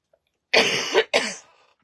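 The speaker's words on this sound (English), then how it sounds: "There's the first cough." Two harsh coughs in quick succession, close and loud, with near silence before and after.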